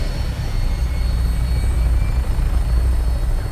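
An aircraft in the Fallout 4 Far Harbor game spins up for takeoff, a loud continuous rotor-like engine drone with a steady low throb and no pauses.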